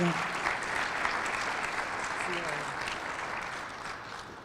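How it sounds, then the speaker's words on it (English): A roomful of people applauds themselves at a spring water week awards ceremony in Connecticut, a thick, continuous wash of clapping that eases off slightly toward the end. "give yourselves a hand"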